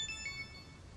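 A phone's ringtone sounds for an incoming call from dad, a brief, faint electronic tone with thin high ringing notes.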